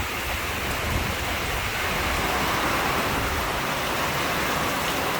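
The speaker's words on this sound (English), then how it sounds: "Ooh, it's raining like crazy." Heavy rain drums on a tin roof during a storm, a dense, steady, hissing roar with no breaks or talk.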